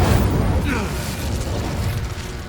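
A fire spell, Incendio, is cast in Hogwarts Legacy and lands as a crackling burst of flame and a whoosh over a low rumble. A voice speaks over the sound.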